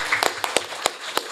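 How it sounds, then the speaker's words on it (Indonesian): An audience claps hands at the opening of a PKW event at Modesta Education Center, a handful of sharp claps in a loose, even rhythm, close and fairly loud. "Tepuk tangan dulu ya."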